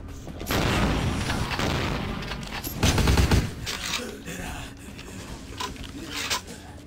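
A flamethrower roars continuously in the game Vampire: The Masquerade – Bloodlines, a dense, loud rushing blast with booming bursts of impact, and a voice speaks over it.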